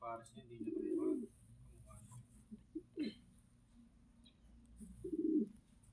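Pigeons give low, throaty coos, two clear bursts close by, with people talking around them.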